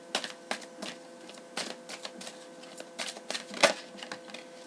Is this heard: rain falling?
no